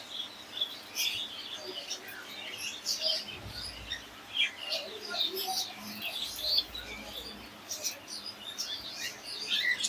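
Caged Gouldian finches and conures for sale chirp and tweet continuously in a busy chorus of short high calls, some near and some farther off, with faint background noise.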